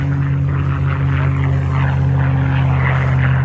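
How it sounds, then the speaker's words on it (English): A P-51 Mustang with a Rolls-Royce Merlin engine flies at an airshow, giving a loud, steady propeller drone with a strong low hum held throughout. "This aircraft, another P-51, smaller red tail."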